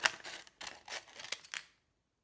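A good pair of scissors cutting through a sheet of sanding material, making a series of short crisp snipping crunches in quick succession before falling silent.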